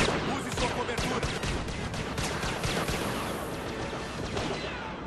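Rapid bursts of Star Wars Battlefront blaster gunfire crackle continuously, dense and loud, with a voice faintly mixed underneath.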